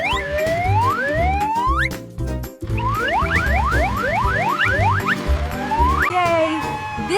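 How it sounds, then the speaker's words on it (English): An ambulance siren rises again and again in quick upward sweeps over a steady music bed. The sweeps come in bursts with a short pause partway through. "Ambulances use sirens to move fast."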